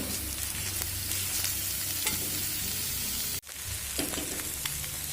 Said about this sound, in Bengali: মাছ মাছটা দিয়ে আরো সুন্দর করে কষিয়ে নেব